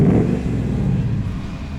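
2020 Ford Mustang GT Performance Package automatic, its engine and exhaust giving a short, steady low rumble, close and fairly loud.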